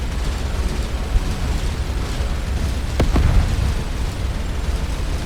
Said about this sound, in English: Oh, he's exploded the main reactor.